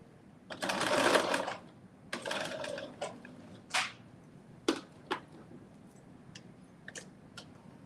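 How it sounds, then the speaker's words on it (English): A sewing machine stitches reinforcement stitches on a Simplicity 9825 garment, starting with a sustained whirring run, then several shorter bursts and isolated clicks as it stops and starts, close and without talk. "And now we're going to put our reinforcement stitches in."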